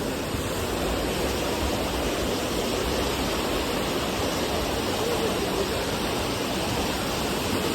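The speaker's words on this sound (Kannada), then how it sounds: "ನೀರು ಹೆಂಗೆ ಹರ್ಕೊಂಡು ಹೋಗ್ತಾ ಇದೆ ಅಂತ" River water rushing under a bridge near Kottiyoor temple in Kerala, a loud, steady roar of churning water with no pauses and no voices.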